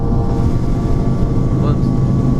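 Sport bike motorcycles on Meridian in 2017 roar past close by, making a loud, continuous engine drone with no pauses.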